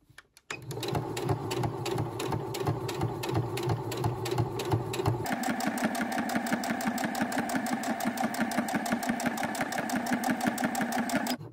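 A domestic sewing machine hums in a fast, even rhythm while stitching a coin purse, running continuously for several seconds with a slight change in tone midway.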